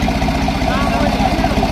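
A New Holland Ford 3630 DLX tractor, a plain model without power steering, idles steadily with a low, even diesel throb, while someone talks over it close by.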